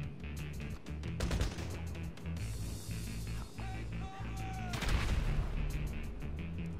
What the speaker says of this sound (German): Aber von wo kamen denn die Schüsse?